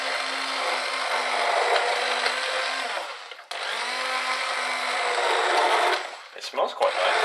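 A blender runs loud and steady, mincing raw broccoli for a cold soup, with a brief stop partway and stuttering pulses near the end.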